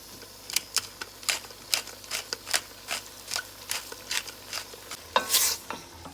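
A spoon stirs green papaya stew ingredients, seasoned with salt and black pepper, in a pot with Guyana shrimp, giving a regular series of close, crisp scraping strokes about twice a second over a faint background, with no talking.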